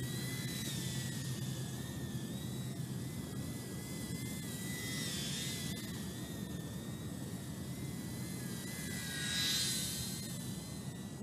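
A Jumper X68T micro FPV racing drone flying indoors, its tiny motors giving a continuous high whine that wavers in pitch as it manoeuvres, swelling louder briefly as it passes close near the end.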